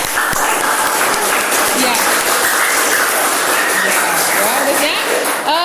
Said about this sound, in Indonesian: Silakan kita kasih aplaus untuk Torik.